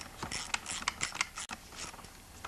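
Rapid ratcheting clicks from tightening two 5/16 nuts evenly on the cover of a STIHL MS 250 chainsaw, a close, busy run of mechanical ticks with a short pause midway and no talking.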